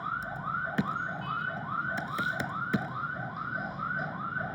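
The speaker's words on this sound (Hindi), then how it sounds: "एम्बुलेंस जा रही है" An ambulance siren wails in a steady repeating two-tone cycle as it passes nearby, loud and continuous, with a couple of sharp clicks or knocks cutting through and no talking.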